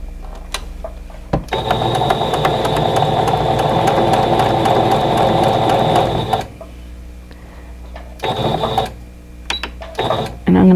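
A domestic sewing machine stitches pieces of a Crystal Star stash-buster quilt block in a steady, loud mechanical run of about five seconds. Shorter bursts follow after a pause, with no talking.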